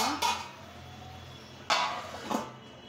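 A metal lid goes onto a cooking pot over a low flame while fish curry simmers, giving three clear clanks and clinks spread over a few seconds against a quiet background hum.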